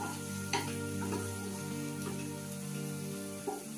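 Chopped onions fry over a low flame for a yogurt chicken curry, giving a steady soft sizzle with occasional scraping stirs, close by and without speech.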